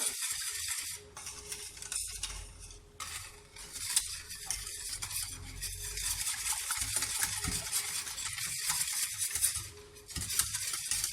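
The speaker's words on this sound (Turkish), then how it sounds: "Pişirmeye başlamadan önce güzelce bir karıştıralım." A starch pudding mixture is stirred briskly in a pot before cooking, with repeated scraping and clinking of a utensil against the pan over a soft background hiss.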